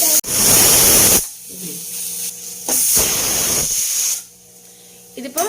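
A pressure cooker whistling while cooking dal for sambar in a home kitchen: loud, sharp steam hisses in two bursts, separated by a quieter stretch of low humming tones.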